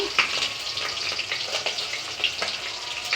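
Green chillies and dried red chillies frying in a pan for peanut chutney, a dense crackling sizzle with sharp pops and spits, close and fairly loud, with faint stirring in the background.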